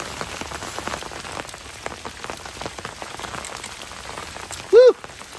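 Steady rain pattering on a clear bubble tent while camping, a dense close patter of drops throughout with one brief louder tonal ping near the end.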